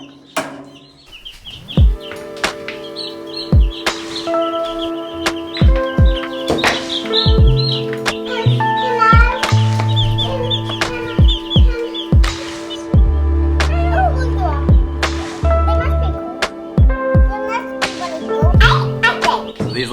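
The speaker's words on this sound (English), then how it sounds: "these are the Cornish Cross, little baby chicks here" Cornish Cross baby chicks, less than a day old, chirp in a brooder under a heat plate, a dense flurry of high, rapid peeps with sharp clicks and taps over a low steady hum.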